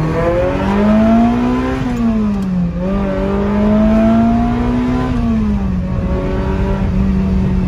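Sports car engine accelerating and revving close up, a loud continuous drone that climbs, dips briefly and climbs again, then settles, heard alone without talk.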